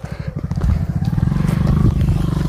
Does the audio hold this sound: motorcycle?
yes